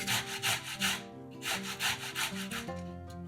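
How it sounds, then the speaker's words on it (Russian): Boiled carrot rubbed on a fine grater, a rhythmic series of close scraping strokes roughly every third of a second, with a short pause and music underneath. "Две средних картофелины трем на мелкой терке."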